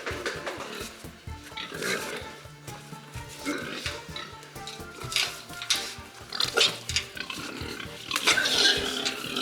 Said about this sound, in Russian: Ну, три нормально зашли свинки, а от дві це ж ужас.